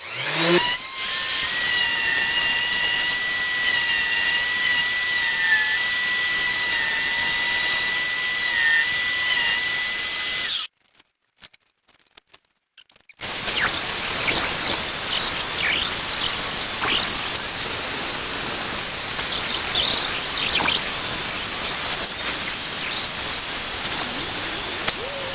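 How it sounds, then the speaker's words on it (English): An 80-grit sandpaper sands a plywood nightstand with a steady, loud hissing rasp, broken by a short pause midway before the grinding resumes. "I'm gonna continue sanding, just making everything even up a little bit more while we're here."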